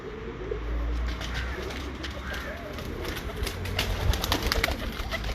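Breeder pigeons coo and murmur in low, repeated phrases close by, with soft rustling and chirps mixed in and a faint voice at times.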